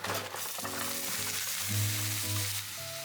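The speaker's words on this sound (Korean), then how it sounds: "다시 이번에는 된장을 볶을 거예요. 고기랑 같이 볶을 거예요." Korean soybean paste (doenjang) fries with meat in a pot, a close steady sizzle and crackle over background music with sustained tones, with no one talking.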